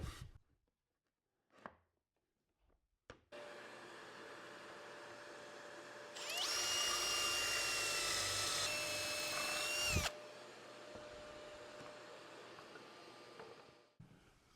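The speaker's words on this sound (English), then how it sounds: "I've marked out where I want to drill my holes" Electric drill boring pocket holes in walnut drawer parts for a mid-century modern end table, a loud steady whine of about four seconds after a lower motor hum starts, alone with no talking.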